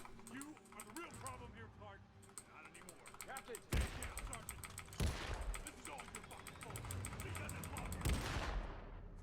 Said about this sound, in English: But first we're going to have to shoot him in the head.